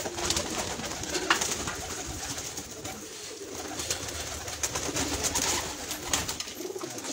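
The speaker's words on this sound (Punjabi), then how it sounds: "ਕਬੂਤਰ" Pigeons coo repeatedly at a pigeon keeper's loft, a soft continuous chorus of overlapping calls filling the scene, steady and fairly close, with no one talking.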